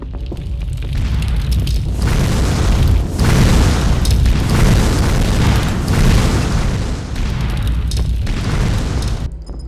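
Fireball sound effects from the Cube video game demo: loud, continuous layered roaring booms and whooshing bursts that swell and fade in overlapping waves, with no talk.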